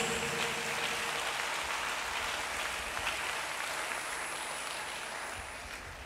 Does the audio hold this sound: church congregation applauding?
yes